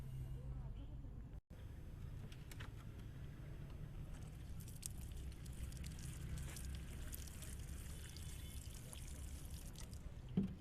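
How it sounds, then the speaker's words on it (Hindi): Rose cuttings in soil being watered with a shower head, a continuous soft pouring and pattering of water lasting throughout, faint and close with a brief break near the start. "हमने शावर की मदद से पानी दे दिया है इनको।"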